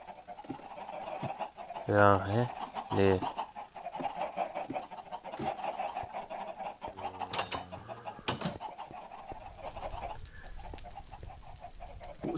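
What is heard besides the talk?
chickens clucking in Minecraft video game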